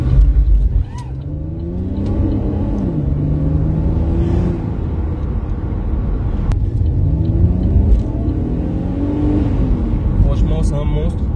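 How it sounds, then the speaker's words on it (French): Chevrolet Camaro RS on a short road test over a slippery road, its engine rumbling steadily from inside the cabin with rising and falling revs, while people talk over it. "nous sommes à bord du Camaro pour le petit essai routier"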